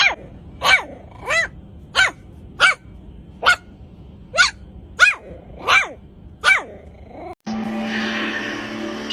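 A puppy gives a rapid series of about nine sharp, close barks mixed with growls, evenly spaced, followed by a sudden switch to a broad rushing noise.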